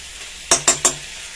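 Eggplant and potato being sautéed in a pan, heard as three quick, sharp scraping strokes of a spatula in a row over a soft background sizzle, close and fairly loud.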